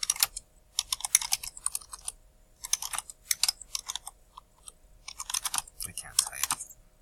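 Fast bursts of typing on a computer keyboard, close clicky keystrokes in several rapid runs separated by short pauses, with no voice over them.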